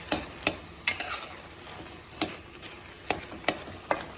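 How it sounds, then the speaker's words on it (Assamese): Fermented fish namsing is stirred with taro in a pan over low gas, giving sharp scraping clacks at an irregular pace over a faint steady sizzle. "কচুৰ লগত নামচিংখিনি মজি যাবৰ কাৰণে ভালদৰে মিহলাই দিছোঁ"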